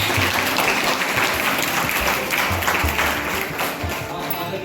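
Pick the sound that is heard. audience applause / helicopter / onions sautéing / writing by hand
audience applause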